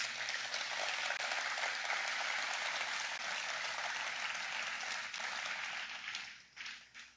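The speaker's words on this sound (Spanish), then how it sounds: "Dale un aplauso." Church congregation applause: a dense, steady wash of many hands clapping for several seconds before it thins out and fades.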